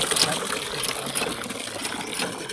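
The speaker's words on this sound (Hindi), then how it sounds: "पाइप भर के पानी आ रहा है" A handpump pipe in the Cholistan desert sends out a steady gush of water, splashing and rushing close by throughout, with voices faintly in the background.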